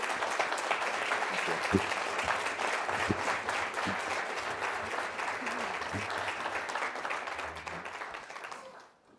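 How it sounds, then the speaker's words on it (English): Audience applause for a panel at a CDKL5 patient-focused drug development meeting, steady clapping from a hall full of people with a few thumps and a brief spoken thanks, tapering off at the end. "So join me in a round of applause for this panel."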